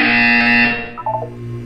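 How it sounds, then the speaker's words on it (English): A loud, harsh buzzer from the video game Portal 2 blares as a single sustained electronic tone and cuts off after well under a second, followed by a brief trailing chirp. "You will hear a buzzer."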